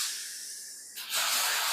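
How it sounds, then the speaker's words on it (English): Welder crackling during an Alfa Romeo Brera 159 Q4 propshaft rebuild, a steady broadband hiss that starts quieter, then jumps louder and brighter after about a second and holds continuously to the end, with no talk. "you can hear the welder crack up there"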